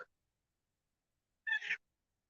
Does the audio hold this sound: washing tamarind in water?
no